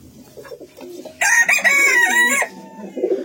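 Pekin bantam chickens in a coop, with soft low clucks and then a loud crowing call lasting over a second, followed by more quiet clucking.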